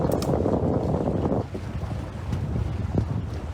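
Strong wind buffets the microphone aboard a small sailboat, roaring steadily with water rushing and slapping against the hull, easing slightly halfway through before gusting again.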